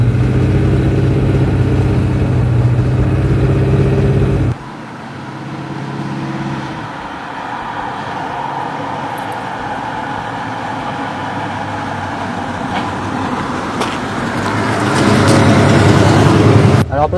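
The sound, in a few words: 1972 Ford Ranchero 500 V8 engine running, modified exhaust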